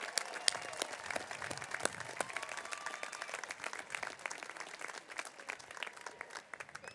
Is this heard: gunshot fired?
no